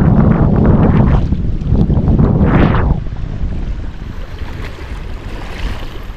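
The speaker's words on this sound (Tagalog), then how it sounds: "Malakas pala yung hangin." Strong wind at Los Vaqueros Reservoir buffets the microphone in loud, roaring gusts that ease after a few seconds into a steadier rush, with water faintly lapping beneath.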